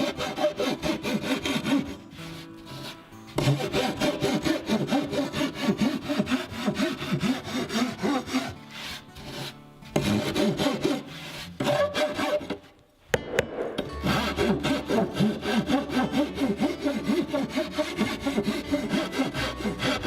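A hand tool shaves down the lip along the edge of a wooden inspection door board in repeated rasping strokes, close and dry, with a few brief pauses between passes.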